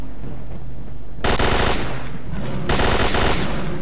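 Automatic weapon fire in S.T.A.L.K.E.R.: Clear Sky with the OGSM mod, two loud bursts of rapid shots, the first lasting about a second and a half, the second after a short pause, over a low ambient background.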